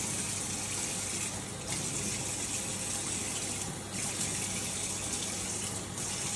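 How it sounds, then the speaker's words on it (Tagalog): Water gushes and splashes steadily into a celery plant pot, pouring continuously at close range with a few brief dips in the flow. "Lagyan mo lang ng kaunting tubig."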